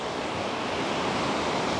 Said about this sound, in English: we have the very calming sounds of the ocean in the background